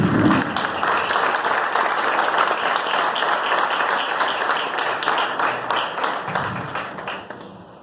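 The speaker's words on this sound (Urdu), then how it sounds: "ہم سب کھڑے ہوتے ہیں اور تالیوں سے ہم ان کا ویلکم کرتے ہیں" A church congregation stands and applauds to welcome the pastor, a dense, steady wash of many hands clapping for several seconds before fading slightly near the end.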